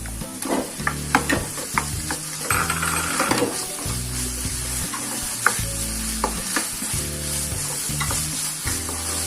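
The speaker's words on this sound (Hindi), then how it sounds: "चिकन को भी अच्छी तरह से भून देंगे" Chicken for restaurant-style fried rice stir-fries in a pan over a high flame, a loud continuous sizzle cut by repeated metallic scraping and clanking of the spatula against the pan in an uneven rhythm.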